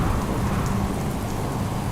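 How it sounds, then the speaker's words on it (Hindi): Steady rain hiss with a low rumbling undertone, dense and unbroken, standing in for light drizzle and cold wind in an animated horror story. "ठंडी हवा सनसनाने लगी और फिर हल्की बूंदाबांदी भी शुरू हो गई।"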